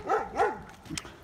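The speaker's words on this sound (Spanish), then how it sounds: "Con esos dos perros ahí diciendo, este es mi territorio, no eres bienvenido." Two dogs guarding their territory bark at someone walking past outside a house: a couple of quick, rising-and-falling barks up close, followed by a short yip.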